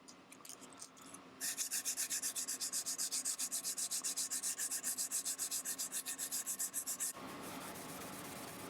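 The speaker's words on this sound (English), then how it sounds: "I've got to recrown, resand, and repolish just the frets that I actually worked on." Bass guitar frets are rubbed back and forth with sandpaper and polish after spot leveling, a close, rhythmic rasping stroke repeated about three times per second for several seconds between quieter scraping.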